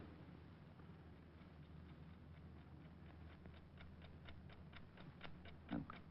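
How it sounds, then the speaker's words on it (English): A clock ticks steadily in a hushed room during a detective radio drama, a regular soft tick-tock repeating throughout over low background hum, with a brief thump near the end. "That clock is going to drive me crazy."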